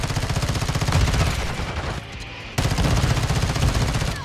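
Rapid automatic gunfire in the Modern Warfare 2 video game on the Shipment map, a dense close burst of shots that breaks off briefly around the middle, then resumes at the same fast rhythm.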